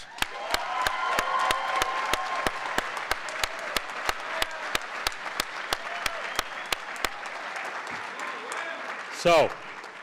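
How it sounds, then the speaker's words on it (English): Audience applause at a school graduation ceremony, a broad, sustained wash of clapping and some cheering from a large crowd in a hall, with a brief loud burst of sound near the end. "give you a big round of applause"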